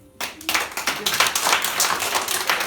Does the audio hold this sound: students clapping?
yes